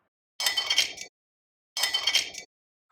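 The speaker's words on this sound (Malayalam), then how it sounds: "പിന്നെ ഇതിലേക്ക് ഐസ് ക്യൂബും കൊടുക്കുക." Ice cubes dropped into a glass while making a mojito, two separate bright clinking clatters about a second apart, crisp and close against silence.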